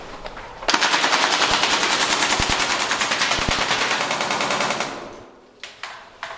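A Marui AA-12 airsoft shotgun fires a rapid, steady burst of mechanical clacks for about four seconds until the magazine runs dry, followed by a few separate clicks and handling sounds.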